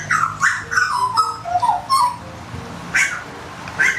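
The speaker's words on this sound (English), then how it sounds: "It's a very vocal bird hanging out here. Hopefully you can hear it." A bird calls loudly and repeatedly nearby with short, warbling, whistle-like notes in irregular bursts over faint background noise.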